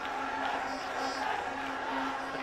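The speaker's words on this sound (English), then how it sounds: "The crowd backing him." Football stadium crowd at an India vs Bangladesh SAFF U20 Championship final, a steady sustained roar of supporters backing a player during a throw-in, broad and continuous with no distinct peaks.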